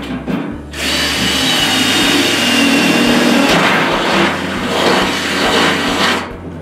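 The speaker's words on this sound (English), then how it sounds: "So instead I'm going to drill a hole." A power drill bores a hole into a lidded metal can, making a loud, steady whirring grind that runs continuously for several seconds with slight shifts in pitch.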